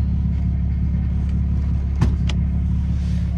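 Mercedes W210 engine driving stuck in first gear, a steady low rumble with faint road noise inside the car and a couple of brief clicks, no talking.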